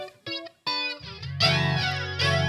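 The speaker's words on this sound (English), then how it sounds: "Sounds like it's phaser." Electric guitar through a Boss Katana amp with a phaser effect: short picked phrases, then sustained chords with a sweeping, swirling shimmer, played close and fairly loud.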